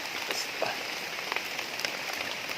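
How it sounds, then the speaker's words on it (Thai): Heavy rain falls in the forest during mushroom foraging. It makes a steady patter with scattered close drops tapping on surfaces, and no voices are heard. "นี่อีกฝนตกพี่น้อง"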